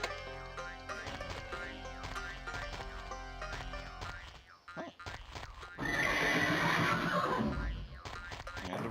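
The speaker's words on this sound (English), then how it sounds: "Random horse outside." A horse whinnies outside in the Alone in the Dark 3 video game, over a busy musical score with plucked notes, then a louder swelling burst near the end.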